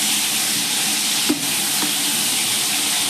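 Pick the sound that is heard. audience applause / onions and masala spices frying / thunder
onions and masala spices frying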